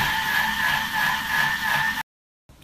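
A Thermomix spinning at speed 3.5 whips cream in its closed bowl, a steady high whirring hum with a strong tonal whine, continuous and close for about two seconds before cutting off abruptly.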